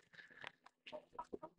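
Hens clucking nearby, a few short broken clucks and soft squawks with brief quiet gaps between them.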